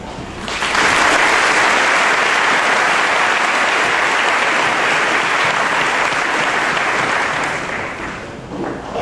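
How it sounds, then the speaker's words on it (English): Sustained applause from a large graduation audience for teachers and staff at Riverheads, a dense wash of clapping that rises quickly, holds steady for several seconds and tapers near the end. "So I think we should all give them a big round of applause."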